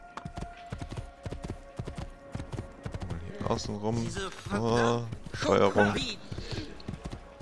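Horse hooves clip-clopping in Assassin's Creed 2, a quick, even trot of hoofbeats that continues while someone talks over it in German.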